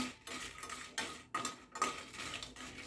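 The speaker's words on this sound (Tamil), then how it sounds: "வெறும் சட்டியில் வறுத்தா போதும் மிளகா." Whole red chillies dry-roasted in an empty pan, a few quick metallic scrapes and clinks of a spoon against the pan, close and fairly quiet with short pauses between strokes.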